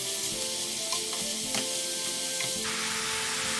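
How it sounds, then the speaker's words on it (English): Finely chopped large courgette sizzles and fries steadily in a hot pan, a continuous close crackle with a few faint stirring knocks, no voices. "I'm now adding a large courgette that I've chopped quite finely."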